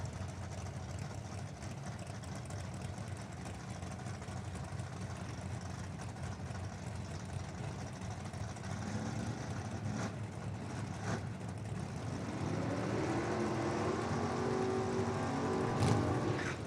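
Drag racing cars, including first- and second-gen Camaros with small block and big block engines, idle and rumble at a distance in the D-Gas class, a low steady drone that swells slightly toward the end.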